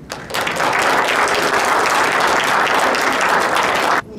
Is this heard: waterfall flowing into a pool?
no